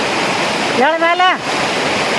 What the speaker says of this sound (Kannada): ನೀರು ಜೋರು ಐತೆ